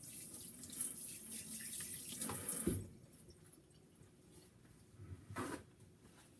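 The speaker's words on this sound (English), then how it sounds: "let's give our hands a rinse." A kitchen water tap runs steadily for about three seconds while hands are rinsed, then shuts off, leaving a quiet room with a faint knock near the end.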